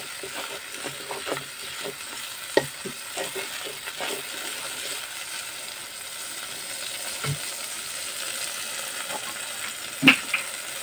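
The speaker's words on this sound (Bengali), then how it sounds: "হলুদ এবং আদা রসুন বাটা। আমি সব মশলাগুলো ভাবে কষিয়ে নিব।" Spices with turmeric and ginger-garlic paste sauté in a pan for a potato and pointed gourd curry, a soft, steady sizzle with scattered taps of stirring and one sharper clink near the end.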